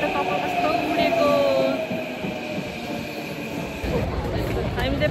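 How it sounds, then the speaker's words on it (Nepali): A train arrives at a station in Tokyo with loud, rolling rumble and screeching wheel tones. People talk and chatter over the train noise. "ट्रेन आयो अब चाहिँ हामी चाहिँ जान लागेको।"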